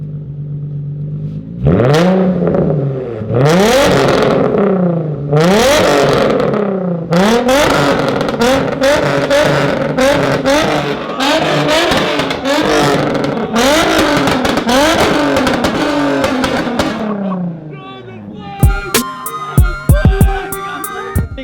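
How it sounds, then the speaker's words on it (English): A loud Tomei Ti titanium car exhaust revs hard in repeated rising and falling bursts, several throttle blips in a row, then sharp crackles and pops as it settles. "Everything I've ever wanted in an exhaust right there."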